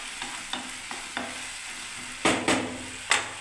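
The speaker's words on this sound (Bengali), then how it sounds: "না আমি এবারে কিছুক্ষণ এটাকে কষতে থাকবো বন্ধুরা।" Spices with turmeric and coriander sautéing in a pan: a steady sizzle under repeated spatula scrapes, soft at first, then several louder strokes close by.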